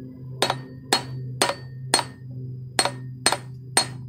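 A hammer strikes a hub bearing on a 2002 Chrysler PT Cruiser seven times in a steady rhythm, each blow a sharp, close metallic whack over a low hum, with no talking.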